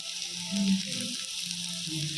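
Ivy gourd and onion fry in a little oil in a covered pan over low heat, a soft steady sizzle with faint bubbling that holds evenly throughout.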